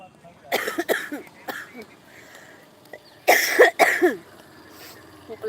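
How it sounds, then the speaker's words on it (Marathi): A woman coughs in harsh, repeated bursts, a few spaced coughs followed by a louder cluster, close to the microphone in a quiet room. "डेंजरवाला खोकला लागला मला"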